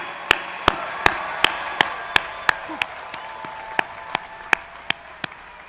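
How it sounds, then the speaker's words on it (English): Sharp, evenly spaced claps ring out at a steady beat, about three per second, from an audience at a 2024 master's graduation ceremony, moderately loud with no talk over them. "please join me in another hearty round of applause for this awesome group on reaching an important milestone"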